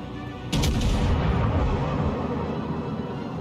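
Battleship New York's main cannons firing in a World of Warships co-op battle: one heavy, close boom that rolls into a long, loud rumbling tail.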